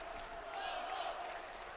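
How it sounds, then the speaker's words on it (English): Crowd support roaring in the background of an amateur boxing bout between two southpaws at the AIBA World Championships, 86 kg division, a steady distant cheering wash with no clear individual shouts throughout. "with the support of the crowd behind him. You can hear that in the background."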